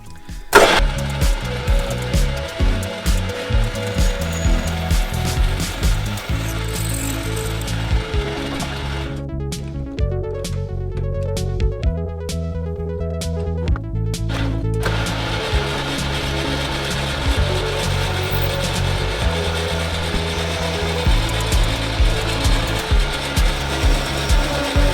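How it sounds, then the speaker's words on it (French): Lathe turning and drilling a metal spacer for a Husqvarna 701 motorcycle in a home workshop: a steady mechanical whir with repeated rhythmic cutting passes, loud and close, with a brief sharper section midway and no talking. "on va venir la percer pour passer l'axe. Ensuite on va pouvoir la tourner, rectifier l'autre côté"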